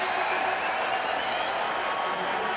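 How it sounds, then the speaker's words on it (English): A packed Test cricket crowd applauding and cheering as Courtney Walsh closes in on 500 Test wickets, a dense, continuous roar of clapping from a large stadium audience. "Crowd now right into it. They know they're on the verge of seeing history here."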